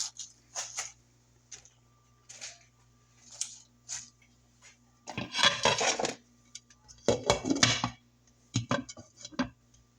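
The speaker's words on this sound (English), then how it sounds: "Alright, I'll put the lid on and let that cook down." A lid is set on a pot of Southern-style collard greens, with scattered light clinks and taps, then two louder clattering bursts of metal on metal close by in a quiet kitchen.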